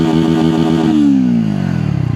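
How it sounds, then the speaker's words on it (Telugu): Exhaust of a 2026 Triumph Speed 350 motorcycle, a loud close thumping engine note that holds steady, then dips and settles back into a lumpy idle pulse. "ఒకసారి ఎగ్జాస్ట్ సౌండ్ వినండి"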